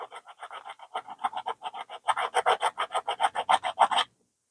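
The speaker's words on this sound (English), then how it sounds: "I'm just going to gently try to file these out." Rhythmic rasping file strokes work nicks out of an aluminum Crayford telescope focuser part, about sixteen short close strokes, steady at first then quicker and louder in the second half, with no voices.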